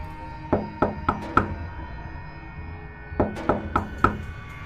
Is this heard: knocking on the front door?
yes